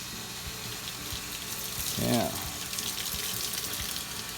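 A hose runs water into a tank on a farm, with a steady, fairly close rushing flow and a brief gurgling swell midway; a voice speaks a single short word.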